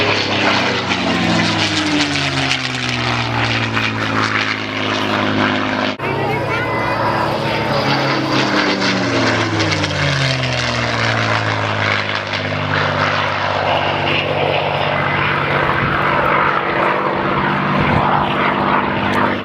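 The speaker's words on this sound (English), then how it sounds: "Wheels down on the B-17" A B-17 bomber's propeller engines drone loud and steady at an airshow, their pitch gliding up and down as the aircraft passes with its wheels down. A commentator talks over the engines.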